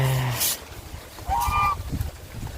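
A goose honks on a Thai farmyard morning, several short nasal calls close by over steady outdoor background noise and faint rustling.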